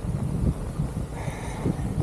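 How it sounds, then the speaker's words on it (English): Cool wind gusts roar across an open outdoor route on a long-distance bike ride in Baja, a steady, close buffeting rush on the microphone with no one talking. "it's cool and windy"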